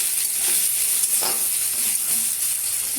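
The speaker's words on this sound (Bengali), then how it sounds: "থেতো করে রাখা রসুনটা এবার আমরা কড়াই দিয়ে দেবো। দেখো দিয়ে এটাও একটু ভেজে নেব।" Crushed garlic fries in a wok for a Bengali taro-leaf (kochu shak) dish: a steady, close sizzle with faint stirring scrapes, no talk.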